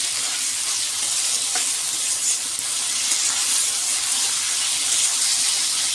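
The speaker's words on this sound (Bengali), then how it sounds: "নুন দিয়ে আরও কিছুক্ষণ নাড়বো।" Chow mein with salt is stirred in a hot pan, giving a steady, dense, hissing sizzle with small shifts as the noodles are turned. No one speaks.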